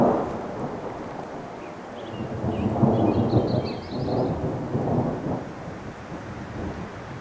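Summer thunderstorm thunder in Montana heard from inside a van, a long low rolling rumble that swells and fades over several seconds, with rain and wind noise around it.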